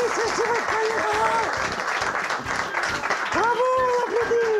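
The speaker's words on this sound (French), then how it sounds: "Bravo, on applaudit." Audience applause from a small crowd, a dense patter of clapping, with voices cheering and calling out over it throughout.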